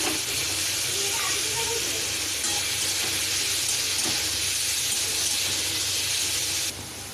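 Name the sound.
shrimp coated in salt and turmeric frying in a wok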